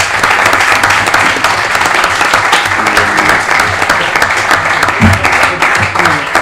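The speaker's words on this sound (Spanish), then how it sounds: "por eso pido un fuerte aplauso para la conferencia" Loud, dense audience applause fills a hall after a lecture in a sociopolitical debate event, steady clapping from many hands throughout with a few voices faintly mixed in.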